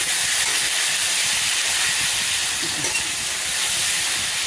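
Taro stolons tipped into a hot pan of spiced oil release a loud, broad, steady hiss of steam and sizzle that holds unbroken from start to finish, close up.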